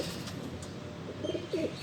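Rampuri-bred pigeons coo faintly in a low murmur, with two slightly clearer throaty calls near the end over a steady background hiss and no speech.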